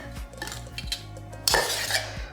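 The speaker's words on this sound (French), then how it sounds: "Donc, 2 couteaux comme ça. Et on commence à découper en croisant." Two crossed knives chop merguez sausage for Tunisian kaftéji with a steady rhythm of close thuds on a board and metallic clinks of blade against blade, with one sharper scraping clatter partway through.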